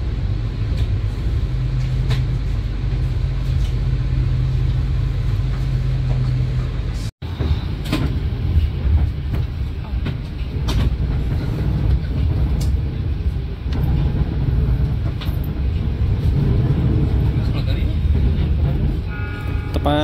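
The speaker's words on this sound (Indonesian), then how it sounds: "Kereta api Argo Semeru memasuki stasiun Solo Balapan." The Argo Semeru passenger train pulls into Solo Balapan station with a loud, continuous low rumble and clatter, a brief cut partway through, then the heavy rolling noise resumes with occasional clanks.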